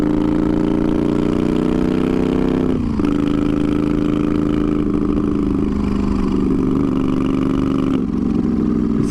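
A twin-turbo Moto Guzzi V50 III cafe racer engine runs loud and steady with a deep, rich exhaust note, dipping briefly twice as the revs shift, with no talking over it.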